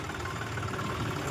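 A John Deere tractor engine idles steadily, a continuous low mechanical rumble with vibration, close and unbroken, with no talk over it.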